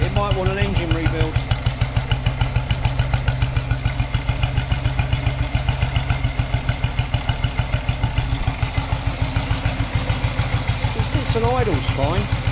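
A 1956 Royal Enfield motorcycle engine, oily, smoky and tired enough to need a rebuild, idles close by with a steady, even thumping beat and light mechanical clatter, and a voice speaks over it.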